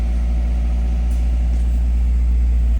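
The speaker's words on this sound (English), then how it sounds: "That clean idle and everything." A Mazda Miata engine idles steadily after a head gasket repair, a loud, close, even low rumble that holds smooth throughout and cuts off abruptly at the end.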